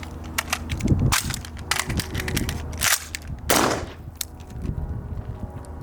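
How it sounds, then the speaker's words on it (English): An AR rifle's trigger pull and a stovepipe malfunction clearance: a series of sharp close metallic clicks, clacks and a loud racking slide sound, with handling noise between them. "Pull the trigger, fail to fire, recognize a stovepipe"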